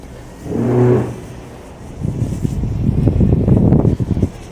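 A yacht's bow thruster gives a low, steady mechanical drone with a brief tonal hum early on, then a louder rumbling churn building up, heard close and without speech.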